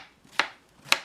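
A knife chops an ingredient into pieces on a cutting board for a smoothie, two crisp separate cuts about half a second apart, close and clear with no talking.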